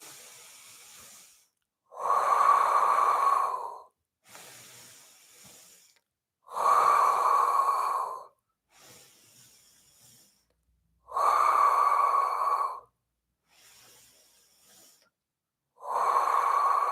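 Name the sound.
rhythmic breathing in and out during Pilates exercise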